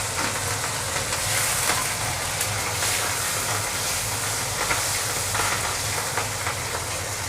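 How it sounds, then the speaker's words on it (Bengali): Whole cumin seeds and green chilies fry in a pan, giving a continuous, even hissing sizzle with a few brief crackling spikes and no talk. "ভালোভাবে এগুলো আমি ভেজে নেব"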